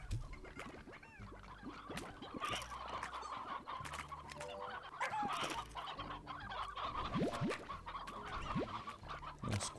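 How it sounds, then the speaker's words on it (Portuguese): Chickens in the video game Slime Rancher cluck repeatedly in overlapping bursts, a busy, moderately faint flock chatter over a low looping game background. "Uns quatro galinhas só."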